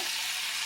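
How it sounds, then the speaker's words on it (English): Onions sizzle and crackle in a hot pan, a steady hissing spatter, close and even, with no talking. "So, got a little sizzle going on, which I like. Sizzle sells."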